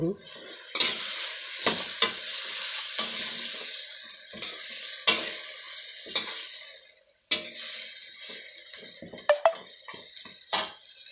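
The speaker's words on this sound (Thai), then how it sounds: "ผัดไก่ให้หอมก่อนค่อยลงใส่หม้อ" Chicken pieces stir-fried in a hot pan before going into a Thai chicken curry pot, with steady sizzling under repeated scraping stirs of a utensil, close and alone.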